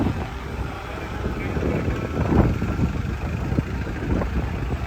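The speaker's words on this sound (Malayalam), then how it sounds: "നല്ല കാറ്റെന്ന് പറഞ്ഞാൽ ഭയങ്കര കാറ്റ്" Steady, heavy wind in the Attappadi forest, Palakkad, Kerala, buffeting the microphone with a constant low rumble and roar throughout, gusting slightly stronger midway.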